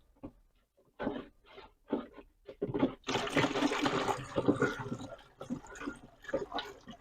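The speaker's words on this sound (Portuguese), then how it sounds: "E vamos aqui acrescentar água." Water being added to a copper-based Bordeaux fungicide mixture and stirred with a plastic spoon, a loud steady splashing pour that swells after a few seconds of brief clatters and carries on to the end.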